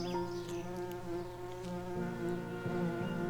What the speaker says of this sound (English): Oh, it's a European honeybee.